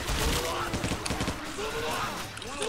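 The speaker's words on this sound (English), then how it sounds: "I shot through a zombie." Rapid gunfire from a Left 4 Dead 2 co-op zombie fight, bursts of shots crackling throughout under excited talking players.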